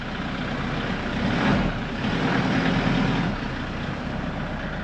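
A farm truck's engine runs steadily at moderate distance, a broad continuous rumble that swells slightly midway as it is driven out, with no talking.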